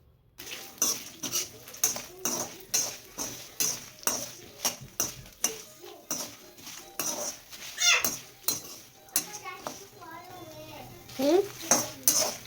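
Cinnamon, star anise and cloves frying in a pan for Guntur chicken, with a dense run of sharp metal spoon scrapes and clinks against the pan over a faint sizzle, close up, a voice briefly heard.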